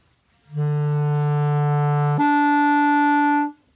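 Two held clarinet notes, a low E sliding cleanly up to the E an octave higher, played solo and evenly.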